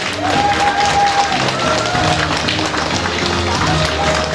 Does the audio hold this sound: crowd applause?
yes